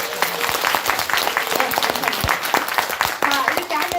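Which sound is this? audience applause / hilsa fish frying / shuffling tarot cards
audience applause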